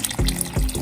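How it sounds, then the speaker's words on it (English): Water pours in short gushes into a pot of beef stew with potatoes and flour, two loud splashing bursts close up in under a second. "I'm gonna add some water in there because this will thicken up"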